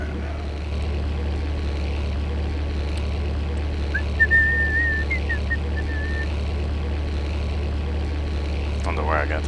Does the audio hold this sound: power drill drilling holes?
no